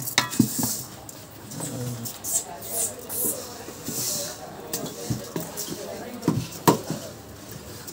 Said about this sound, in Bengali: আমরা এখন লাড়া দিয়ে দেখাচ্ছি দেখেন খিচুড়ি কিভাবে রান্না বান্না করে